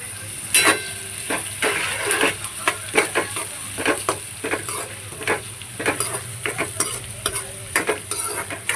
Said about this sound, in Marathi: त्यामध्ये आपण जो बारीक चिरलेला कांदा आहे तोही टाकून घेऊयात